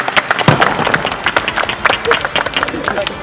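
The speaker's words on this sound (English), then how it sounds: "we're just going to do a big round of applause for Ting." An audience gives a round of applause at a fencing event, a short burst of clapping mixed with crowd chatter and talking voices.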